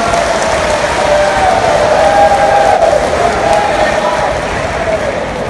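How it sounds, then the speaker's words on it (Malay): Large audience in a hall applauding and cheering for a political figure at a party gathering, a dense sustained roar of clapping and voices that stays loud and steady throughout. "Beri tepukan pada beliau tuan-tuan."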